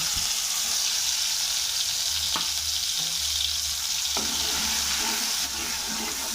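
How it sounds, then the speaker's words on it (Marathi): Masala sizzles and fries steadily in a hot pan, a constant close-up hiss with occasional clinks of stirring. "हा मसाला छान तळून घ्यायचा"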